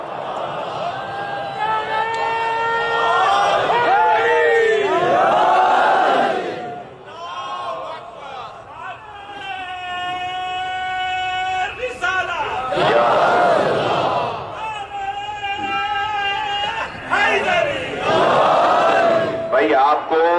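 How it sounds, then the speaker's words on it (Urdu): A large crowd at a religious Muharram gathering shouts a slogan back in unison, answering a cleric. Loud massed voices rise in repeated waves, with a lone leading voice chanting between the responses. "اگر عالم دین نعرہ لگا رہا ہو تو پھر تو آپ کو نعرے کا جواب بھرپور دینا چاہیے"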